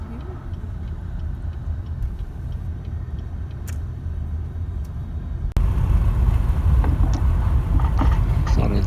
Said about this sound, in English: Thought I'd throw in a few minutes of driving through the scenic Saskatchewan countryside here.